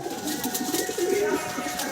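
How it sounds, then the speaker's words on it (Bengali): Madrasi pigeons coo in a loft during winter, a soft low burbling cooing repeated through a steady background hum, close by. "প্রচুর পায়রা আছে"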